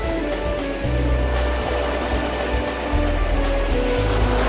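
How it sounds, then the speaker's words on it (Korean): Strong surf at Sampo beach in Korea, loud rushing waves and churning water close by, with steady wind noise over the roar. "저거 봐저 저 파도 엄청 센 거 봐봐"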